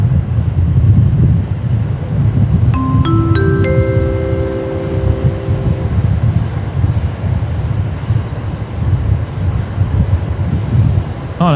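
Strong, steady wind buffets an outdoor microphone at Brisbane Airport, a loud continuous low rumble that never lets up, with a brief tonal beeping sequence near the start.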